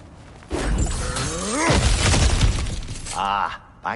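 Crashing and shattering as objects are smashed apart in God of War Ragnarok, a loud splintering break followed by debris and whooshes, with a brief grunting voice mixed in.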